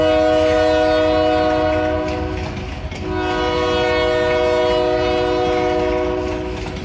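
Loud, sustained horn blast from a Kiamichi Railroad train at night in Idabel, Oklahoma, holding steady tones with a brief dip midway, alone without talk.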